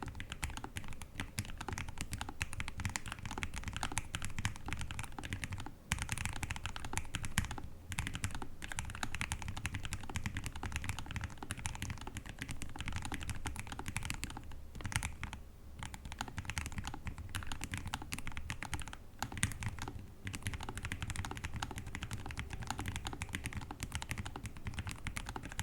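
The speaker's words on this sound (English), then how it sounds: "Now, let's hear some typing sound tests." Continuous rapid typing on a Lofree Flow low-profile mechanical keyboard, a dense stream of close, crisp key clicks with a few short pauses.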